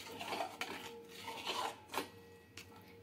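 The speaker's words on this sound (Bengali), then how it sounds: "আর এটা মিশিয়ে দিয়ে এভাবে নেড়ে নিচ্ছি" Date-palm jaggery being stirred into semai in a pot, with a spoon scraping and clinking against the pot in a few short bursts, close and fairly quiet.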